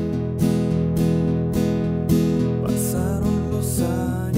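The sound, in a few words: guitar strumming pattern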